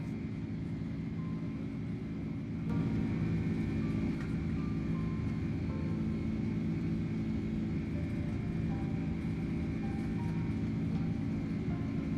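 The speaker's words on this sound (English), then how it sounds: "Man, these engines sound so good." The jet engines of an iniBuilds A310 in Microsoft Flight Simulator 2020 drone with a steady low rumble and a faint high whine, growing slightly louder after a few seconds and holding level throughout.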